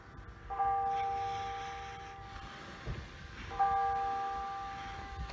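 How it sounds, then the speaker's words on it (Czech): Church bells of Saint George's church in Veisiejai ring twice, each a clear sustained metallic tone that swells and slowly decays, heard at a moderate distance outdoors with no talking. "A znova zrovna začaly zvonit zvony na kostele svatého"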